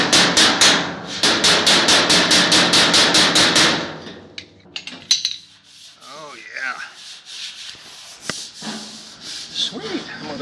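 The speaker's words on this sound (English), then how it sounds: "Got my horseshoe dolly up in behind here." Quick ringing hammer strikes on the car's wheel well metal backed by a horseshoe dolly, a fast run of blows that stops, followed by quieter rubbing and scraping.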